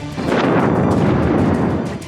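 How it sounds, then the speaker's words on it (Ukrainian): A deep, powerful explosion booms and rumbles continuously for about two seconds, loud and heavy with a rolling low-end roar, as the Dnipro hydroelectric dam is blown up. "Орієнтовно о 20 годині 15 хвилин лунає надпотужний вибух."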